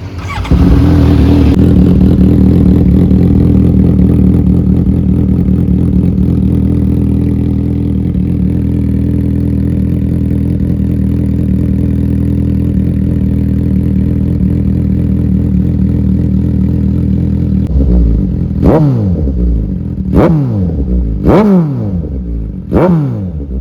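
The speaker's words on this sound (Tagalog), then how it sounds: "So now let's do a sound check of the exhaust." A Suzuki GSX-S750 inline-four motorcycle idles steadily and loudly close by for a long stretch, then its exhaust barks through four sharp revs near the end, each rising and falling quickly.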